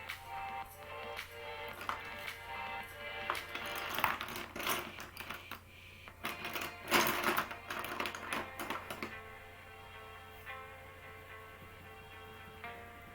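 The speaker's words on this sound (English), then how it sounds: "Sorry if you hear shuffling." Close rattling and clattering of small hard art supplies being shuffled and knocked together in a big box, busy in bursts, then easing off to quieter handling.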